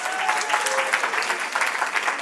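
An audience at an anniversary gathering claps steadily in a dense, even burst of applause that holds throughout without fading.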